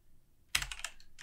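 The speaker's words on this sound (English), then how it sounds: "Today I'm going to show you how to press F on keyboard." A few crisp clicks of a single computer keyboard key being pressed, close and clear, in a short quiet burst with no talk.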